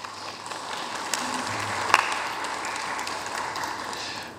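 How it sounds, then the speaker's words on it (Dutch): A room at a press conference on four years of the Santokhi government fills with steady, moderately distant applause from an audience, the clapping sustained throughout with a single sharp tap in the middle. "Mag ik daarvoor een warm applaus?"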